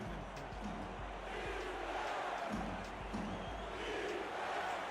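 A football stadium crowd in Los Angeles roars steadily behind the home defense, a dense continuous wash of cheering and chanting heard from a distance, with faint talk beneath.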